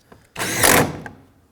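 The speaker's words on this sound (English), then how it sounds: "Start in the 2 T30 Torx bolts." A power driver whirs in one short burst of about half a second, close and loud, while driving a T30 Torx bolt into the door of a 2006-2011 Chevrolet HHR, with light clicks before and after it.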